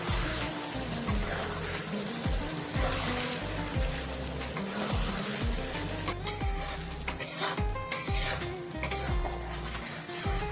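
Mutton brain fry (bheja fry) sizzles in a pan as a spatula scrapes and stirs it in repeated rhythmic strokes, close and continuous, with occasional metal clinks.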